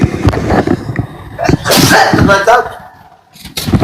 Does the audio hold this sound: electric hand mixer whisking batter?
no